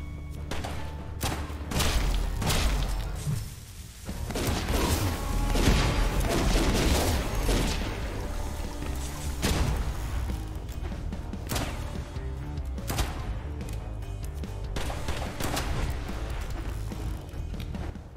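Rapid gunfire and heavy thuds in the video game West of Dead during a fight with the Preacher in the Unforgivable Bayou, dense repeated shots and booms over a rumbling game soundtrack.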